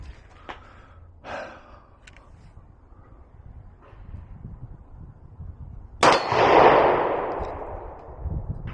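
A single loud report from a Sig P250 .40 S&W pistol fired at steel 50 feet away, ringing and echoing as it fades, after several seconds of quiet breathing and faint handling noise.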